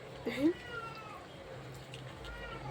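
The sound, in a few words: cat meowing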